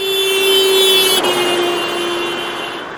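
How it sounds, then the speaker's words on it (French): A car horn sounds in one steady, loud tone as the car drives past someone standing on a sidewalk, its pitch dropping sharply midway and then holding lower as the car moves away. "une voiture actionne son klaxon en passant devant elle"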